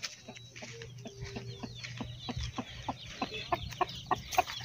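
A tethered hen clucks repeatedly in a rural Brazilian farmyard, short sharp clucks coming faster toward the end over a low background hum.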